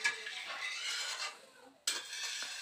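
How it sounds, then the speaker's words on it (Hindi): A spoon scrapes and swirls through sugar dissolving in lukewarm water in a bowl while making pitha batter: a continuous gritty stirring close by, a short pause, then a sudden scrape as stirring resumes. "तो चीनी को इस तरह से घोल लेंगे, पूरा घुलना चाहिए।"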